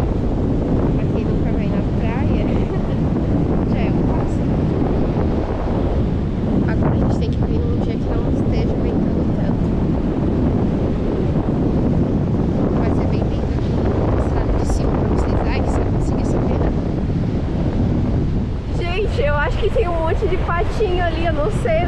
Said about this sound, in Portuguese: Tentamos, mas tá ventando muito.